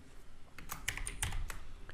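Quiet tapping on a computer keyboard, a handful of irregular key presses and short bursts close to the microphone, with no talking.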